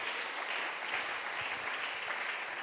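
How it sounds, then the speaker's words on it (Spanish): Church congregation applauding during a Spanish-language service, a continuous, even wash of many hands clapping at moderate volume with no speech over it. "Habrá un aplauso para el Señor en esta mañana."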